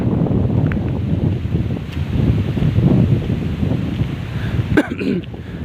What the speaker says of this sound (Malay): Angin kancang sesko kini.